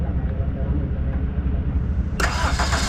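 Toyota Altis engine cranks and fires up after its ignition coils were replaced, the starter churning briefly before the engine catches with a sudden loud roar close by, with voices talking around it.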